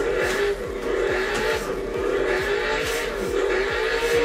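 A drift car skids through a handbrake slide under hard throttle, its engine revving loud and steady while the tires squeal in repeated rhythmic chirps, close and without pause.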